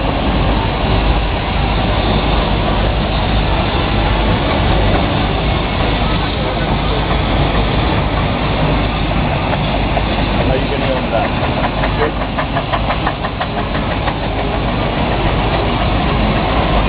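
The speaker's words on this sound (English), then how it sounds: "See the engine starting to open up a little bit now as they get towards the bottom of the hill." A heavy steam traction engine chugs and rumbles steadily, close and loud, hauling a heavy load downhill at a steam fair, with a rhythmic mechanical beat building slightly toward the end as it opens up.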